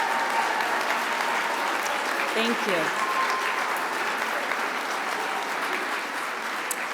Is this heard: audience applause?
yes